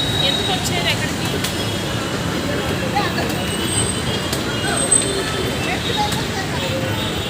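Heavy evening road traffic near a metro station in Hyderabad's Mindspace office district, a constant loud rumble of engines and passing vehicles with a few faint horn-like tones over it, and voices mixed into the din.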